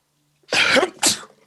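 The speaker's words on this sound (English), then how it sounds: "that was a weird like cough," One sharp, close cough or sneeze during a Dungeons & Dragons session, a burst followed by a second shorter one, with no talk over it.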